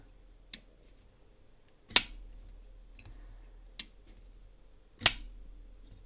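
Four sharp mechanical clicks from a Holt Bladeworks Haptic folding knife being flipped open, spaced unevenly, two of them louder snaps, each crisp and close against near silence.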